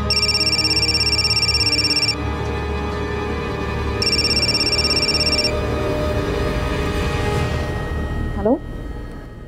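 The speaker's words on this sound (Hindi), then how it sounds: "आपका फोन बहुत बज रहा है।" An electronic phone ringtone in the TV crime drama Crime Patrol Dastak chimes in repeated bursts with pauses between, over faint background sounds and a brief sliding tone near the end.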